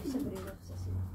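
A racing pigeon gives a soft, low coo close by while it is being ringed, a short throaty burst set against background voices and room noise.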